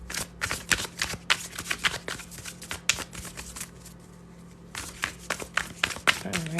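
Tarot cards being shuffled close by, heard as rapid, crisp riffling flutters in quick bursts with a short pause midway, a faint low hum running underneath.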